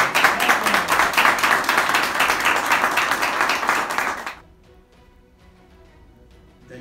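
Audience applause at a tribute ceremony in Almería's western cinema museum: dense, loud clapping from a crowd runs for about four seconds, then breaks off abruptly and leaves only faint room noise.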